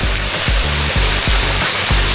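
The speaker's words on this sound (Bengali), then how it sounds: "ঝর্ণার ছোয়া" A waterfall at Chandranath hill pours steadily with a loud, broadband rush that stays close and constant, with faint low thumps pulsing through the roar and no voices.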